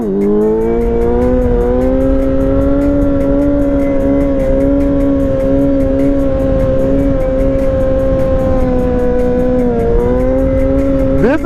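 A Yamaha YZF-R6 sport bike engine, a 2005 model, holds a loud, high, sustained rev close by, its pitch steady with a slight dip near the end before climbing again.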